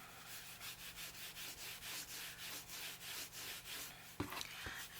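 Paper is rubbed down by hand into the creases of a shabby-style hardcover tri-fold journal, producing a quiet, even series of about a dozen rhythmic scraping strokes, then a couple of light taps at the end.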